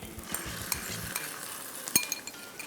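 Chicken frying in a pan for kung pao chicken, a continuous soft sizzle with a few clinks and scrapes of a utensil stirring, close and without speech.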